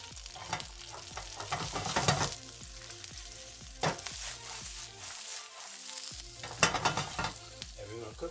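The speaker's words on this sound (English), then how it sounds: "we're going to cook these until you start to see char, start to see slightly blistered around the edges of the pepper" Shishito peppers fry in a pan with salt and pepper, a soft, continuous sizzle broken by several louder bursts as they are stirred or tossed, with one brief quiet gap.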